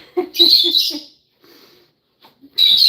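Lovebirds in an enclosure give a burst of short, close chirps, a few soft calls after a pause and then another bright chirp, with no talking in between.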